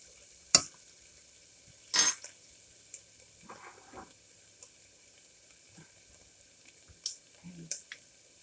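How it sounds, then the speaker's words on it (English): Butter melts and garlic sautés in a pan, giving a faint sizzle under a quiet kitchen background, punctuated by a few sharp clinks and scrapes of a utensil against the pan. "right now we're trying to melt this butter and saute the garlic at the same time"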